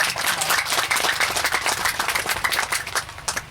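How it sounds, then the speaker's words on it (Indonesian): Lively audience clapping rises at a gathering, a close, dense patter of many hands with uneven bursts that eases slightly toward the end. "Tepuk tangan buat semua."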